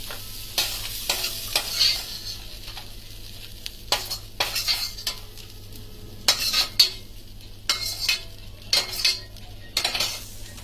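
Boiled chickpeas being tempered in a pan, a spoon scraping and clinking against the metal in irregular bursts over a steady low sizzle, close up with no talking.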